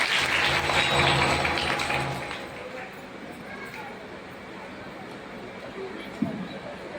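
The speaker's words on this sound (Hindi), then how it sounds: "जोरदार तालियां होनी चाहिए इस बात के लिए" An audience at a Tiens product training seminar claps loudly for about two seconds, then the applause thins into a quieter murmur of scattered claps and room noise, with one sharp knock near the end.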